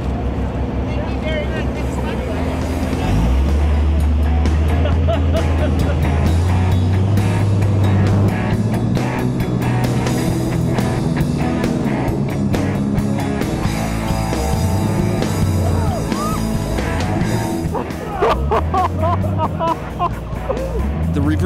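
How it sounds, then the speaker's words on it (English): A powerful jet boat engine roars loudly and continuously on the Reversing Falls in New Brunswick, with splashing water and excited voices shouting over the noise. "It's pretty nuts how powerful this jet boat really is."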